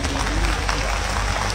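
A crowd at an Indian evening festival gathering claps and stirs, a steady wash of applause with crowd noise throughout the short stretch.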